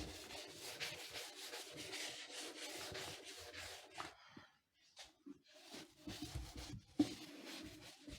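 Steady back-and-forth rubbing across a classroom board to erase it, a dry scrubbing texture in quick strokes, close and fairly loud, with a short pause midway before the rubbing resumes.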